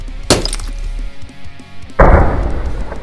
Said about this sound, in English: How's it feel to be frozen and smashed, Buzz?